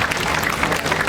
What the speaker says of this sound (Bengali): আমাদের মাঝে একবার জোরে হাততালি হোক বিদ্যুৎটার জন্য